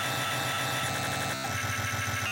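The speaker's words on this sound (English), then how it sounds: "it creates this very nice glitching effect like this one" Glitchy, stuttering texture built from manipulated percussive sounds in a sound-design piece, a dense continuous buzzing wash with rapid repeating artifacts and a brief dropout near the middle, loud and without any voices.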